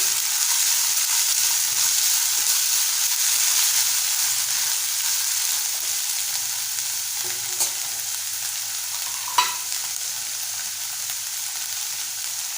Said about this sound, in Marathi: परतवून घ्यायचं आपल्याला।